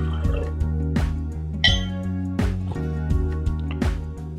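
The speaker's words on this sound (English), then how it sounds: "We're going to begin by adding the 1 1/4 cups of warm water," Warm water poured from a measuring cup into focaccia bread mix in a mixer bowl, a close trickling and splashing fill with small drips and clinks, set against a steady mechanical hum.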